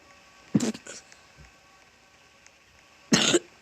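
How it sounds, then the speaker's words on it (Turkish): A person coughs while playing a Roblox game, with a sharp cough and a smaller follow-up early on, then a longer, harsher coughing burst near the end, loud and close, between quiet stretches. "Çok üzülüyorum arkadaşlar. Öksürdüğüm için."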